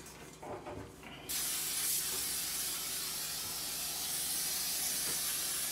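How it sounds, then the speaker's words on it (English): After a moment of quiet handling noise, an aerosol can of cooking spray coats cake pans for a red velvet cake with a steady, close, continuous hiss. "Spray pans down."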